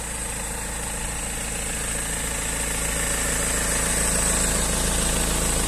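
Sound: BMW 320D diesel engine idling

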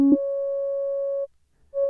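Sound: saw wave synth oscillator tone

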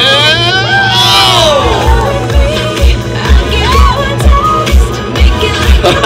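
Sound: crowd applauding and cheering

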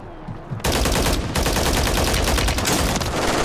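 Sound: gunfire in video game Call of Duty

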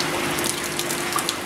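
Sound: spraying off aquaponic filter pads with water

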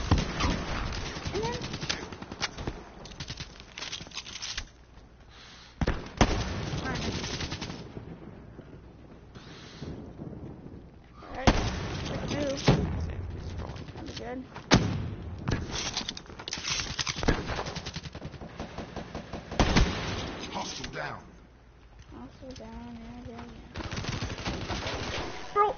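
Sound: LMG machine gun fire in a video game

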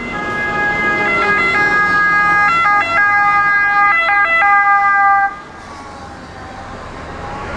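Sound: ambulance siren

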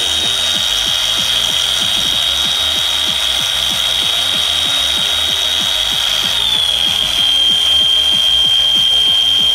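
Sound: Hitachi G14DBVL 14.4V cordless grinder running

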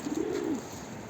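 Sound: pigeon cooing

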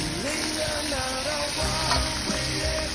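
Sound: octopus and seafood frying in a pot

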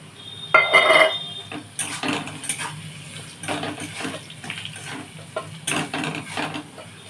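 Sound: water being poured into cooking pan

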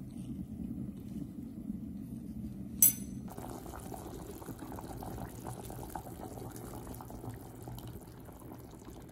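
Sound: tomato simmering in broth for Salvadoran beans with ribs

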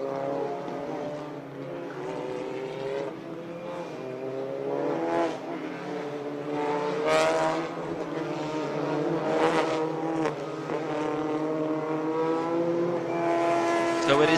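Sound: touring cars on formation lap at Hungaroring

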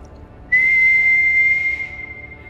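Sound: whistling imitating ghost sound

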